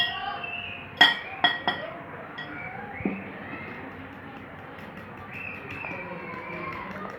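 Eggs being mixed with spices in a bowl, heard as a few sharp clinks of a utensil against the bowl early on, then a soft, quieter background.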